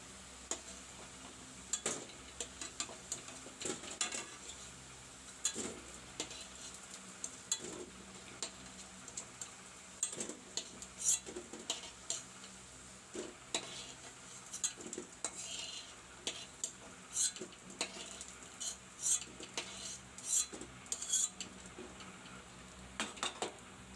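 Fried lentil vadas being lifted out of hot oil for dahi vada, with repeated sharp metallic clinks of a spoon against the pan over a faint low sizzle, close and steady for a long stretch.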